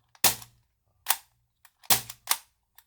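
A Maruyama MP9 gas blowback airsoft submachine gun fires a handful of sharp, loud shots at uneven spacing, two pairs of cracks with longer gaps between, close by and with no voices over them.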